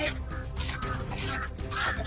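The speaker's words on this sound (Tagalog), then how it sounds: "ang dami mga ibon." Many birds call together outdoors, overlapping cawing and squawking cries repeating over a steady background din, fairly close and busy throughout.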